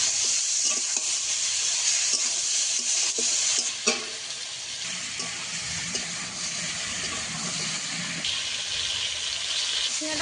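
Ridge gourd frying in a pan gives a steady hissing sizzle punctuated by spatula scrapes and clinks, with a faint voice briefly underneath.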